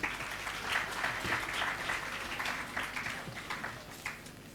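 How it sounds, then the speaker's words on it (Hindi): A conference audience at an ICAI business event applauds its sponsors, steady dense clapping from many hands filling the hall at an even level before tapering slightly. "दोनों के लिए भी तालियां होनी चाहिए"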